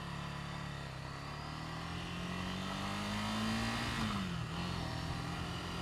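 A Ducati Scrambler 800 motorcycle engine revs close by, holding a steady growl, then climbing and sliding back down in pitch near the end, loud and clear with no talking over it.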